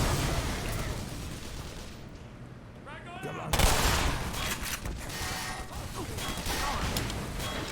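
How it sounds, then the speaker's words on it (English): Enemy gunfire in the game Black Mesa: a dense, sustained barrage of shots with a loud burst partway through, continuing steadily over game noise. "Oh, they're already shooting at us."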